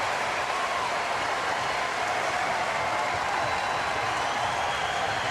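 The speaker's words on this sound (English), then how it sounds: "Crowd chanting with every pitch." A large college baseball crowd of more than 11,000 roars steadily throughout a Super Regional game between Oklahoma and LSU, a dense, loud wash of massed voices and noise with no break.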